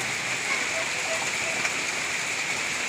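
Heavy rain from Typhoon Carina falls in a steady, unbroken hiss, fairly loud and constant throughout with no distinct individual drops.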